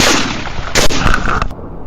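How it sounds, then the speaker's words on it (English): Rapid burst of gunfire aimed at a charging wild boar during a hunt on a mountainside: several loud, sharp shots crack close together over about two seconds. "A rapid burst of gunfire erupted"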